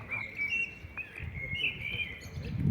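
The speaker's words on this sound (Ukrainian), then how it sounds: "Пташечки нам співають як гарно." Small birds sing outdoors, high thin chirps and trills repeating over soft background noise, moderately near.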